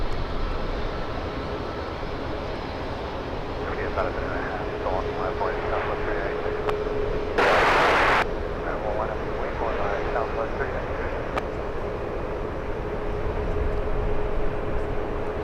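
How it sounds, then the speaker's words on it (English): An Air India airliner arriving from Delhi touches down on runway 28 right at San Francisco International, a steady distant roar of jet engines running under continuous talk, with a brief burst of broadband noise midway. "All right, Air India touching down safely."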